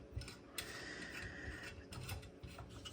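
A toy robot's arm mechanism being twisted by hand, producing faint close ratcheting clicks and gear grinding with a few sharper snaps, quiet and continuous with no talking.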